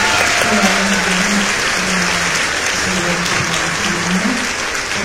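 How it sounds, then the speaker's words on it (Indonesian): An audience breaks into sustained, dense applause that carries on steadily for several seconds while a voice talks over the clapping. "tepuk tangan dong."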